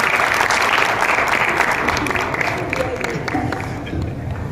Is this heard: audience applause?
yes